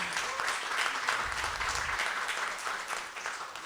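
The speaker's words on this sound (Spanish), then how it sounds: "Ivonne Muñoz, para quien yo pido nuevamente un fuerte aplauso" An audience at a panel discussion on Afro-Peruvian zapateo claps steadily and loudly, a dense wash of applause lasting the whole moment without pause.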